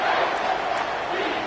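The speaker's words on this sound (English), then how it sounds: "Here comes this home crowd as the defense tries to get off the field on third down" A home stadium crowd roars on third down in the College Football 25 video game, a loud, dense, continuous wall of cheering and yelling throughout the short stretch.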